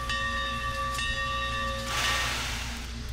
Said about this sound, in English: the animated bell